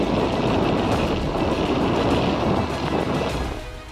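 Floodwater rushes after heavy rain in Jamnagar, Gujarat, where the current has broken part of a bridge, a dense continuous roar of churning water close by that eases slightly at the end.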